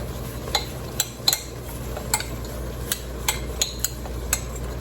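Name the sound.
stirring a casserole mixture in a bowl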